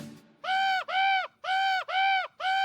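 A raven calls five times in a quick series of loud, close, hoarse croaks, each about half a second long and separated by short gaps, with no other sound around it.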